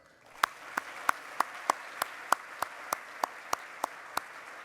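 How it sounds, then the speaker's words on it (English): One person claps at an awards event for Western fine art, about thirteen sharp, evenly spaced claps in a steady rhythm, close and distinct over a quiet background. "And I think we all owe them a tremendous round of applause for what they do to promote Western art."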